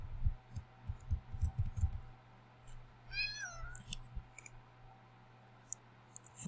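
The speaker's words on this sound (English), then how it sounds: "my cat came for a visit" A cat gives a single short, faint meow amid soft clicking and light tapping sounds in a quiet room.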